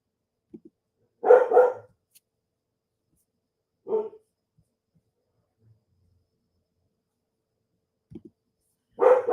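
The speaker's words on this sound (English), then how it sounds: "My dog is getting scared of the sounds out there." A frightened dog barks indoors in short, separate bursts with long quiet gaps between them, the louder double bark near the start and again at the end, while crickets or insects chirp faintly outside.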